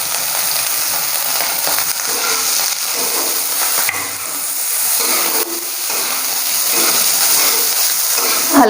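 Onions and green chillies fry in a pan with a loud, close, continuous sizzle and hiss, crackling steadily throughout with a few small stirring bumps and no talk.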